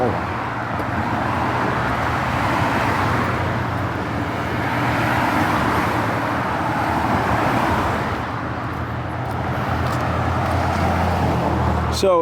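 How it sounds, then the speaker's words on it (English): Cars pass along a nearby road in a continuous, steady rumble of traffic that swells and fades slightly as vehicles go by, fairly loud throughout. "the cars are passing by. That's the reason I'm pausing so much."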